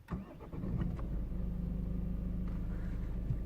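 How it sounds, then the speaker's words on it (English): A Ford Focus Titanium starts up from inside the cabin: a brief crank at the beginning, then the engine catches and settles into a steady, muffled low idle hum that continues to the end. "how this car sounds when starting up."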